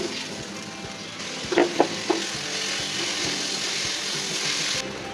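Rice fries in a pan with grated ginger and green chillies for a vegetarian fried rice, a steady close hiss with a few light clinks of stirring early on.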